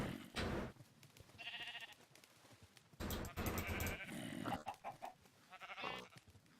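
Sheep bleating in a Minecraft modpack farm, several short game-style bleats in bursts, fairly close and alone without talk.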